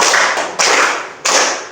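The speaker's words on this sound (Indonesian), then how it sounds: "Kalau kau senang hati tepuk tangan." Schoolchildren clapping hands in time to a sing-along action song in class: three sharp, loud, evenly spaced group claps, each ringing out with a short reverberant decay in a room.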